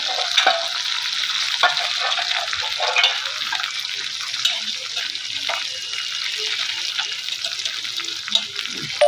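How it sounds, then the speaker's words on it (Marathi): Cowpea pods frying in a pan of oil while being stirred, a close, continuous bright sizzle broken by small spatters and clinks of the stirring utensil throughout. "आता मी हे तेलामध्ये शेंगा टाकत आहे। शेंगाला तळून घेणार आहे मी।"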